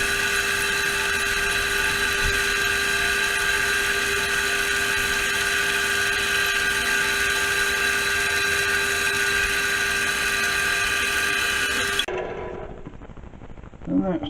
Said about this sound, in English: And that's the drilling part.